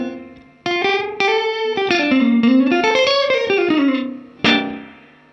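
A clean electric guitar through an amp rings out picked notes and chords drenched in a heavily modulated plate reverb, the wobbling tail sustaining between attacks, loud and close with no talk.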